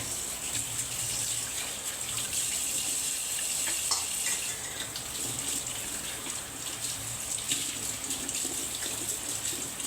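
Water runs from a tap while someone washes, a continuous splashing rush with light clattering, moderately close and steady throughout.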